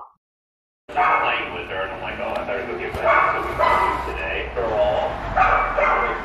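A puppy's repeated barks and high yips come close and clear over steady indoor background, with a person talking over the barking throughout.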